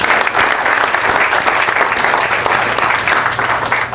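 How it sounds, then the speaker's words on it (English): A room of guests at a jury improvement luncheon in Toledo gives jurors a round of applause, a dense, even burst of clapping that holds steady for several seconds without voices. "let's give them a round of applause"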